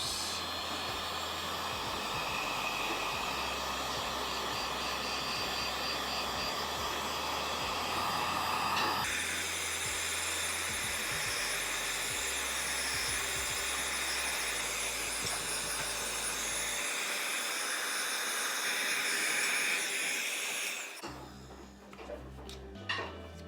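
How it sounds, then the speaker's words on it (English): A heat gun on its low setting blows across resin for galaxy coasters, a loud, steady whooshing roar that shifts pitch partway through and cuts off near the end. "we'll come in with our heat gun on low setting and just blow it all out"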